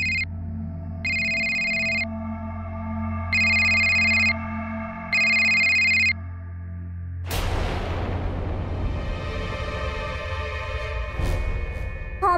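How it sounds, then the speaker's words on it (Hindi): Telephone ringing in a home, four evenly spaced electronic ring bursts, loud and alone, followed by a sudden crashing dramatic sound effect. "कहीं से फोन की घंटी?"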